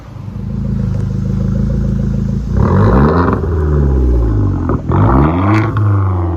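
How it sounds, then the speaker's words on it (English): A 2010 Hyundai Genesis Coupe with a 2.0L turbo engine and straight-pipe dual exhaust idles with a rough burble, then revs repeatedly and loudly up close, with short sharp blow-off valve releases as the revs fall. "You can hear the blow-off valve."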